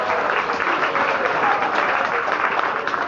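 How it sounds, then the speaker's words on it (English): A studio audience on a Hollywood back lot tour applauds steadily, a dense, even wash of clapping from many hands throughout. "Let's give them a big round of applause."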